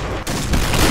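Rapid gunfire from the video game Point Blank, loud, dense and continuous, with a brief dip before the bursts resume even heavier.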